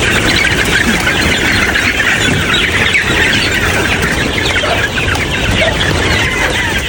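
Chickens cluck and chatter continuously in a dense flock, with rooster-like calls and bird chirps mixed into a steady outdoor din, no talk.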